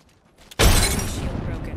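Energy shield shattering in the Apex Legends video game, a sudden sharp glassy crack followed by a dense, loud crunching burst of game effects, with a voice speaking over the sound.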